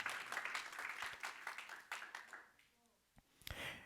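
Church congregation clapping hands during a Spanish-language sermon, scattered claps with crowd voices for the first seconds, then quieter with a few louder claps near the end.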